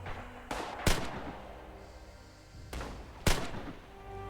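Shots from a trench gun in the World War I shooter Aufmarsch: The Great War: sharp, loud blasts in two pairs, a softer report followed quickly by a harder crack, with a quiet pause between the pairs.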